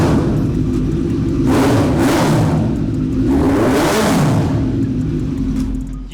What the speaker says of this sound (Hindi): ये थी आपकी आकरा की आवाज़।